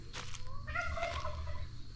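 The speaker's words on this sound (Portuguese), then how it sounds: "o barulho dos galos aqui, eles acordam cedo" Fowl on a rural farm property in Pirapora de Bom Jesus, São Paulo call out in the morning, a drawn-out, wavering crow-like cry close by over low background rumble.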